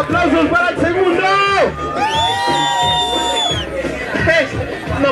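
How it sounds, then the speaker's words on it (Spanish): A crowd of children cheers and whistles loudly for the second team during a group game, a sustained whistle soaring over excited shouting and chatter, with some clapping mixed in. "¡Aplausos para el segundo!"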